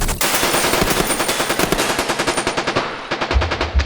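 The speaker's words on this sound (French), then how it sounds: "Ils vident leur chargeur." Police empty their gun magazines in a rapid fusillade, dense loud gunfire rattling in fast continuous bursts that thin into distinct shots toward the end.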